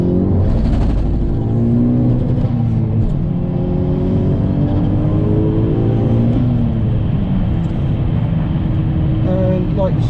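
A VW Golf Mk6 GTI accelerates hard along a motorway, its engine note climbing steadily through the gears as a loud, continuous in-car drone with rising tones and road rumble throughout.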